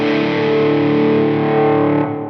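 A sustained, heavily distorted electric guitar chord played through an amplifier into a Two Notes Torpedo Captor X, ringing out loud and saturated, then cutting off sharply near the end.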